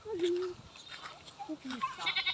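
A goat bleats loudly at the start, followed by a few shorter bleats, on a rural farm in Camalig, Albay, with people talking nearby.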